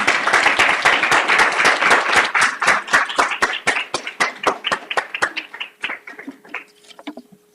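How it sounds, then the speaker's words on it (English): An audience claps for the contributors to a book at a public event on college students and hidden inequalities, loud and dense at first, then thinning into scattered claps that trail off. "can the rest of us give them a round of applause?"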